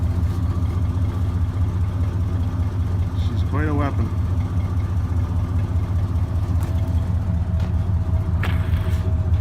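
An old farm truck engine idles steadily after being repaired, a continuous low rumble running throughout with someone talking over it.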